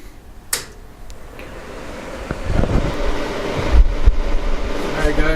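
An electric garage heater's fan runs steadily after power-on, a broad even whoosh of moving air that builds slightly over the few seconds, with a couple of brief knocks near the end.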